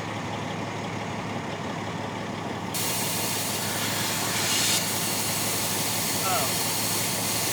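Compressed air hissing steadily from a truck air tank pop-off valve on a broken-down lowboy, a broadband rush that grows louder partway through, with faint voices.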